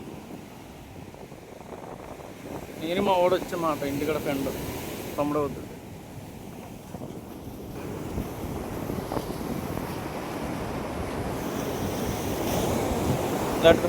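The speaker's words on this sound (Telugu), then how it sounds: "కాకపోతే ఫుల్ గాలి వేస్తుంది" Strong wind buffeting the microphone at sea on a fishing boat, with waves and a steady rushing roar throughout as someone talks over it for a few seconds.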